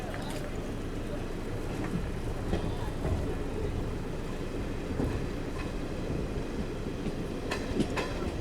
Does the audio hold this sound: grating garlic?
no